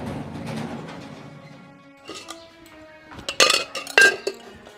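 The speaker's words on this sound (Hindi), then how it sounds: "बर्तन धोऊं सू" Dishes and pots being washed by hand in a Haryanvi home give off a few sharp metallic clinks and clatters near the end, after a stretch of low rumbling background.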